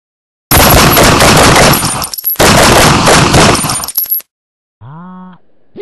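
Automatic gunfire in an animated action scene: two long, loud, rapid bursts separated by a brief gap, followed by a short tonal electronic sound.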